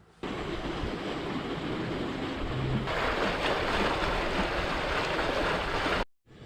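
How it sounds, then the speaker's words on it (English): Marina water bubblers switching on around a wooden gaff cutter in winter, a loud, steady churning and rushing of agitated water close by, rising a notch partway through before cutting off abruptly. "I was just about to go to the office and ask if they could turn the bubblers on, and they just did."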